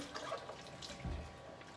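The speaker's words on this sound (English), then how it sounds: "Rinse this two properly." Tap water runs into a sink while baby feeding bottles are rinsed, a soft steady splashing stream with a brief fuller gush midway, close and fairly quiet with no talking.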